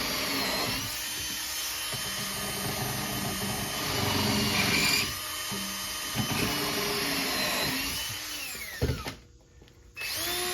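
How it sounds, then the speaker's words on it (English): A power drill bores holes through composite decking for a homemade screened bottom board, whining steadily in long sustained runs with brief pauses, then cutting off near the end. "Drill my holes with my alignment lines."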